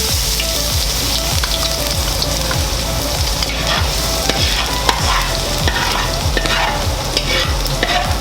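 Ginger and garlic sizzle loudly in a hot pan for pancit, with a steady frying hiss and a regular scrape of a utensil stirring them, close up and with no voices.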